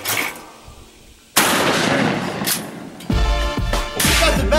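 Gunfire on a shooting range at a scout camp, heard as loud bursts of shots under background music that starts suddenly partway through.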